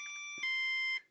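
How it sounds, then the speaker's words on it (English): A QIDI 560 beginner RC plane remote gives a short, sharp electronic beep as its flight-mode indicator, a single clear tone close up, alone. "And then 3 beeps fully down is in manual mode."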